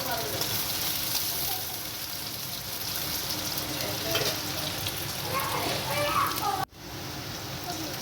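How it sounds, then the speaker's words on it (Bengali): Potatoes frying in oil with a cumin seed tempering, a dense, steady hissing sizzle heard up close for several seconds before it cuts out sharply, with faint talk underneath. "জিরে ফোড়ন দিলাম জিরে ফোড়ন দিয়ে আলুগুলো ভেজে নেব"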